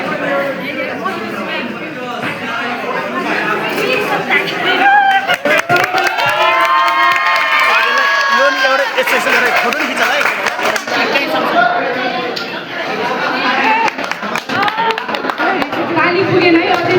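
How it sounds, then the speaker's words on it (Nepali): A school crowd of students claps for their class 12 teachers, with sustained applause and cheering that mixes with chatter and a voice speaking over the noise throughout. "ताली पुगेन है, अझै ताली"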